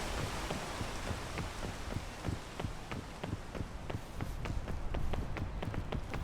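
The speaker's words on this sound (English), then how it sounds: "Of course it rains." Rain in the video game Peak falls as a steady wash of noise, with regular soft thumping steps pattering through it at an even pace from start to finish.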